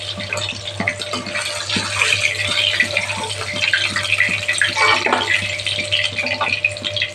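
Hilsa fish pieces frying in hot mustard oil, giving a steady close-up sizzle dotted with small crackles and pops throughout, with no talking.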